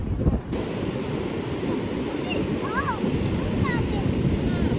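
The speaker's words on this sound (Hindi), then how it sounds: "देखो कितनी तेज हवा चल रही है।" Strong wind blows across a Goa beach in the monsoon season, buffeting the microphone in a constant rushing roar with surf underneath and a few faint high chirps.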